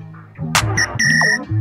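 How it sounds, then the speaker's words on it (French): A bright whistle sample rings out over a booming bass and drum loop in a short electronic beat being produced. "J'aime bien le petit sifflet aussi, on va le rajouter."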